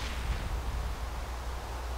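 Sentry turret from the Minecraft Sentry Mod (version 1.6.4) firing at a player, a faint, steady rattle of low thumps with no clear separate shots over two seconds.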